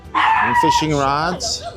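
A dog in a large outdoor-and-fishing store lets out a loud, drawn-out yelping bark with a whining pitch. It sounds close and briefly masks a person who is speaking nearby.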